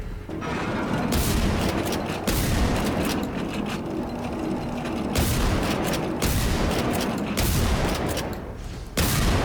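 Shotgun blasts in the game Generation Zero boom out one after another, several loud heavy shots at irregular intervals over constant rumbling combat noise, with no talk.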